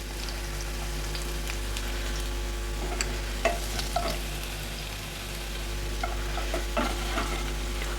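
Finely chopped garlic frying in a pan for prawn thokku, a steady crackling sizzle with intermittent stirring clicks and scrapes, close by and without any talking.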